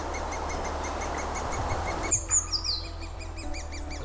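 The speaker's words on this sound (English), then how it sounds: "This chick and its siblings spend all day calling out for more food." Woodpecker chicks in a tree nest call for food, with repeated high, thin chirps in a steady rhythm over a dense background hiss, then sharper, closer squeaks.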